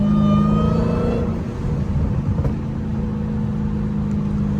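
A Dodge Hellcat's engine drones loud and close while the car drifts, holding a strong revving tone that dips briefly and then settles into a steady roar, with wind noise around it.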